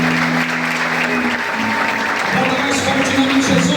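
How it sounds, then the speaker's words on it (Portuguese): Loud, continuous applause from a congregation during an evening church missions service, dense clapping that fills the space while voices and tones carry faintly underneath. "Aplauda o Senhor."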